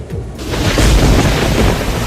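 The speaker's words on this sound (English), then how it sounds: "It's raining hard, quite windy too, but we made it inside at the split second as I closed the patio door shut once I heard the crack of thunder." Heavy rain with thunder rolling through a windy storm, a low rumble swelling after a brief quieter start and a dense wash of downpour holding loud and steady throughout.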